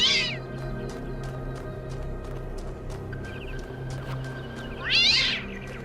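A cat meows twice, a short call at the start and a louder, drawn-out one near the end, close by over steady low background hum.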